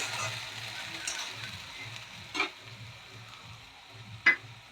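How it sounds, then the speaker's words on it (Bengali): Onions fry gently in a pan for a prawn-paste pointed-gourd dish, a soft, low sizzle with two sharp spoon taps against the pan standing out, no talking. "এবার পেঁয়াজটা আমরা ভেজে নেবো সুন্দর করে"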